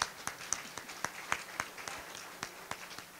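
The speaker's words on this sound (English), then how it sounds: "Let's give a round of applause." Sparse, scattered handclaps from a small audience at a county State of the County presentation, a dozen or so separate claps spread unevenly across the moment, fairly quiet and with no talking.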